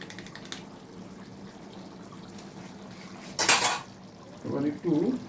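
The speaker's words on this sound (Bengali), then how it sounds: "এবার একটু খুন্তি দিয়ে নেড়ে নেব।" A metal spatula scrapes and clanks through a large pot of Shai-style chicken curry made with three kilos of chicken and butter. A low steady background runs under one loud burst of stirring midway, and brief clatter and a short voice-like murmur follow near the end.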